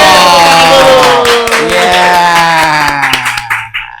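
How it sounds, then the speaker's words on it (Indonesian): Studio audience and hosts clap to welcome a guest, a veteran comedian, on an Indonesian podcast set: loud, close, dense clapping that carries throughout and tapers off toward the end. "Tepuk tangan"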